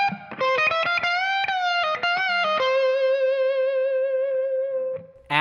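Electric guitar with distortion in a blues performance: a quick run of bent lead notes, then one high note held and sustained with vibrato for about two seconds before it cuts off. The tone is singing and overdriven, close and loud.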